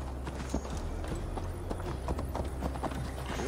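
Horse hooves clip-clop in a steady trotting rhythm during a ride in Assassin's Creed Valhalla, close and continuous, with a low rumbling ambience underneath and no voices over the hoofbeats.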